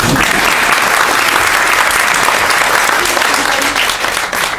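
Steady, dense applause from an audience at a bilingual Japanese–Spanish piano recital, loud and continuous from start to finish with no gaps.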